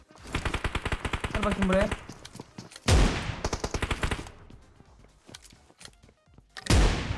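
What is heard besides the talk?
gunfire in video game PUBG Mobile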